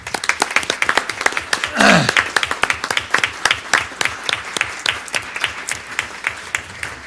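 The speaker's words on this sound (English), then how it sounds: "would you stand so we can give you a round of applause?" A small school board meeting audience claps for students' families, a sparse room of distinct individual hand claps in an uneven rhythm, fairly close, with a brief rising whoop or voice partway through.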